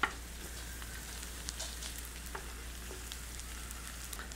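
Garlic toasting in olive oil in a pan for carbonara pasta, a soft, steady low sizzle with faint crackles and pops, heard alone and fairly quiet.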